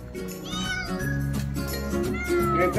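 Repeated high, wavering meows from a young kitten rescued on a forest division office roof in Sidhi, fairly close and steady across the stretch, with some background voices underneath.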